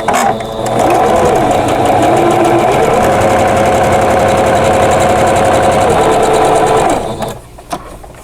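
A sewing machine runs steadily for about seven seconds, its fast rhythmic mechanical whir loud and close as it stitches a quarter-inch quilt seam, then stops, leaving a few small clicks.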